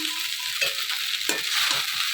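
Potatoes fry in a pan, a steady close sizzle with occasional stirring scrapes and no talk.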